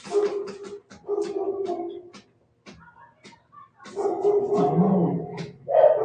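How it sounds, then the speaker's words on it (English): A neighbor's dogs that have escaped outdoors bark in repeated loud bursts, mixed with yips and whimpers, with short quiet gaps between volleys. "Some neighbor with her dog escaping from her house and barking"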